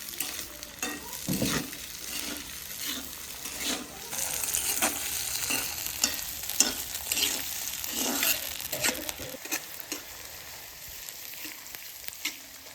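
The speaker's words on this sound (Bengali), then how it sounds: "এবার আমি পেঁয়াজ, মরিচ, রসুনগুলো তেলে ভেজে নেব" Onion, chilli and garlic frying in oil in a pan, a soft steady sizzle broken by repeated scraping stirs of a spoon, fairly quiet and close, with no talking.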